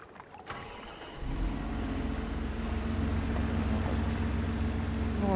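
A tractor engine idles as it warms up in the video game Farming Simulator 25, a steady low rumbling drone that starts after a short quieter moment and continues without talk.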